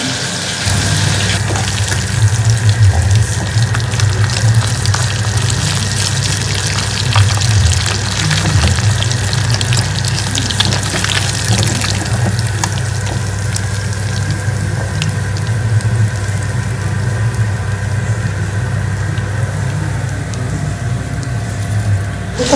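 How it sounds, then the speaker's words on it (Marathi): Fish shallow-frying in a pan at home, a steady dense sizzle and crackle running continuously for the whole stretch with no talk over it. "आणि आता इथे फिश तळते, फिश तळली की मस्त जेवण करणार."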